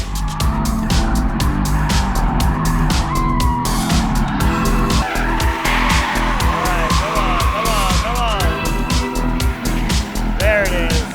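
An RTR Mustang drifts through the last corner at a drift school, engine roaring loud and steady with repeated tire squeal and skidding throughout, while people talk over it.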